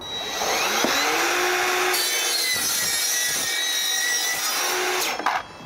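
A power saw cuts through square steel pipe, a loud, steady grinding whine running almost the whole time before it stops abruptly near the end, with no talk.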